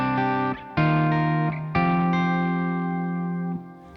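Electric guitar with a high-output humbucker played through a Peavey Invective amp with gain at halfway: sustained overdriven chords, struck three times and allowed to ring out thick and saturated, fairly loud with no talking.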